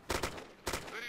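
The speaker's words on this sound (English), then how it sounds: "Where are they shooting at?" Gunfire in the military shooter game Arma 2, two quick bursts of broadband shots separated by a short pause, moderately loud, with a faint ringing tail afterward.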